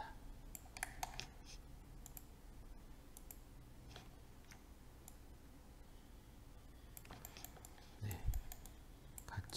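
Scattered computer keyboard clicks as shortcut keys are pressed while modeling headphones in 3D software, faint irregular taps with clusters near the start and end over a quiet room.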